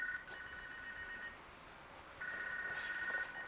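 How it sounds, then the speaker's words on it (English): Telephone ringing in an office during a Japanese car auction review, a steady electronic ring tone in two bursts, faint and without speech. "Telephone's ringing."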